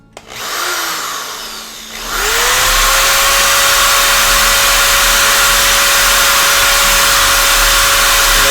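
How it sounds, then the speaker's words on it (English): A power drill boring a hole into a watermelon whirs briefly, pauses, then spins up to a loud, steady high-pitched whine that holds for several seconds, close by. "you're going to want to drill on the side where you're going to put your tap"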